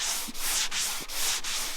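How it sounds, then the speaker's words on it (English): Long sanding block with 80 grit abrading body filler on a Chevy High Country truck body, a close, loud rasping scrape in steady back-and-forth strokes. "Now I'm gonna cut it with some 80 grit on my long block."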